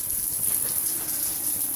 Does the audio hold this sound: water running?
yes